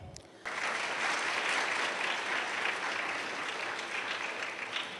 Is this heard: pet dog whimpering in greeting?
no